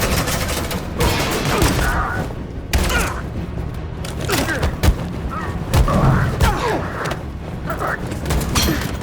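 Sustained suppressing gunfire in the video game Detroit Become Human, a dense rattle of shots and heavy booms running nearly continuously under shouted voices.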